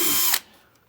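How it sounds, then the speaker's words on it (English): A power drill bores through the side of a helmet in one brief whirring burst that cuts off abruptly into near quiet. "I'm going to drill both the sides off there real carefully"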